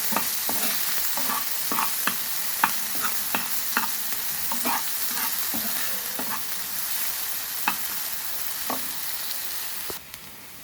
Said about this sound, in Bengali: দিয়ে দেব পেঁয়াজ কুচি, স্বাদ মতো লবণ দিয়ে একটু ভেজে দেব।